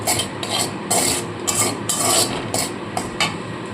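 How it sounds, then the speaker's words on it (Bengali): Cumin seeds tempered in hot oil left over from frying potatoes, a steady low hiss of oil under rhythmic scraping strokes of a spatula against the pan, several distinct scrapes spaced about half a second apart. "এবার ওই তেলের মধ্যে আমি দিয়ে দিচ্ছি অল্প করে জিরে ফোড়ন"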